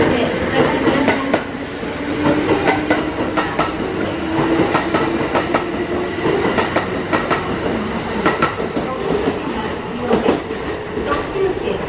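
A Kintetsu train rumbles into Yamato-Yagi station with rhythmic clattering wheels and occasional metallic squeaks, steady and close, with a faint Japanese platform announcement beneath.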